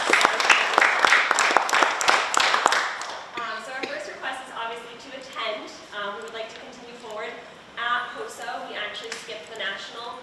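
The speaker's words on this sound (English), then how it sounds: "So a round of applause to them for that." A burst of clapping and applause at a school committee meeting for a few seconds, fading as a person starts talking over it.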